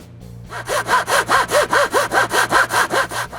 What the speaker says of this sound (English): After gluing some 1/4 inch boards together, I cut them to the length of the window.